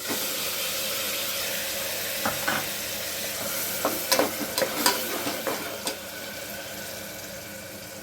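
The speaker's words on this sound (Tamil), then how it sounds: "அரைச்ச வெங்காயம் விழுது இது ஒரு டூ மினிட்ஸ் வதக்க போகிறோம்" Ground onion paste sautés in a pan for a sprouted fenugreek gravy, giving a steady hissing sizzle with a few clinking stirs and scrapes in the middle.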